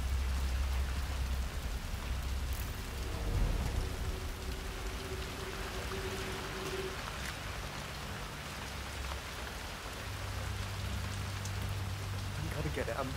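Steady rain falls in the video game Hitman 3, a dense, even hiss of drops on surfaces running throughout with a low background hum, and no voices over it.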